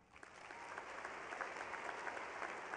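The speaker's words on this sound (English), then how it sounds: "applause." Steady applause for a graduate at a university spring commencement ceremony, a dense, even patter of many hands sustained across the whole moment at moderate distance.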